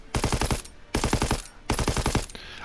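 Automatic rifle fire at the firing range in Call of Duty WWII, three loud rapid bursts of about five shots each separated by short pauses, with no talking.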